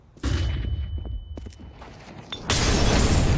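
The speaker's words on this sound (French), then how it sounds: "Flashbang." A flashbang grenade goes off during a Counter-Strike 2 match, a loud broadband burst near the end after a stretch of thumps and rattling gameplay noise.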